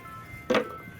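A tiny ice cream truck passes nearby, its sound swelling in a short, loud burst with a bright chime-like tone before quickly fading into quiet background.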